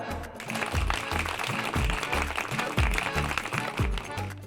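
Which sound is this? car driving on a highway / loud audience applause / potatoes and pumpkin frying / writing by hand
loud audience applause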